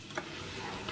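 Hot vegetable oil with shrimp paste and salt in a pan for Balinese jukut urab, giving a brief, steady, soft sizzle with a faint stirring scrape.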